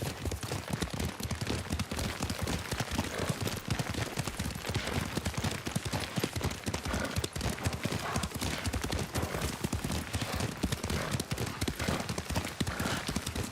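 Rapid, steady clip-clop of horse hooves at a gallop in the video game Ghost of Tsushima, continuous and fairly close, with a faint voice briefly underneath.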